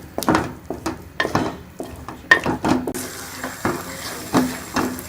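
Rabri halwa is stirred and roasted in ghee in a pan, with repeated scraping and knocking of a spoon against the metal and a soft sizzle underneath, close and rhythmic without talk.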